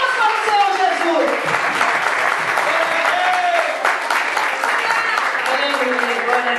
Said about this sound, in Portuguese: As palmas para o Senhor Jesus.